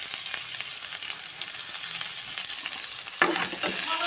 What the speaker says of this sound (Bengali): এবার এইখানটা দুটোখানে পেঁয়াজ দেবো অল্প করে।